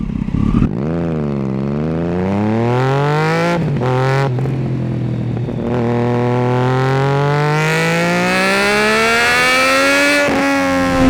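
A Triumph Daytona 675 sport motorcycle climbs a short uphill stretch, its engine loud and close with a rising, whining howl through the gears, brief dips between shifts, and no talking.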